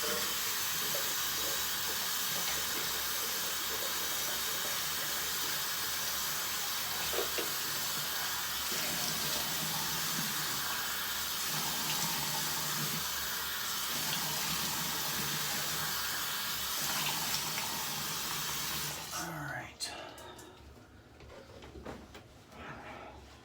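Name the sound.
water running from tap, rinsing after shaving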